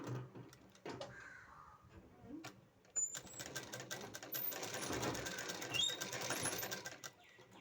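A sewing machine stitches a zip into a churidar, its rapid needle chatter running steadily and close after a few brief starts, fairly quiet, with no voices over it.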